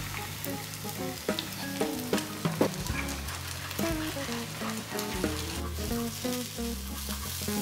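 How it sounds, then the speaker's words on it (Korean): Ramen stir-fried with garlic, with egg added beside the noodles in a pan, sizzles loudly and without a break. Repeated scraping and clattering strokes of a utensil sound over the frying, and no one speaks. "그리고 라면을 한쪽으로 밀어놓고 계란을 넣어 볶아줍니다."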